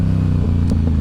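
Yamaha R7 motorcycle pulling hard in second gear to lift a small wheelie, a steady low engine drone held close and loud throughout, with faint clatter over the top.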